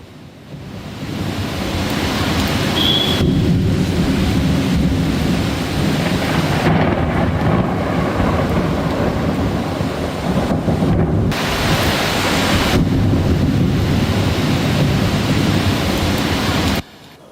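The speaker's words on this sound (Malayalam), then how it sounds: "നഗരപ്രദേശത്തൊക്കെ നല്ല മഴ പെയ്തിട്ടുണ്ടായിരുന്നു" Heavy rain pours down during a night thunderstorm over a city, a loud, continuous roar of rainfall with deep rolling thunder running through it, and no voices.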